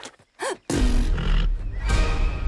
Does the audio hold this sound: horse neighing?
yes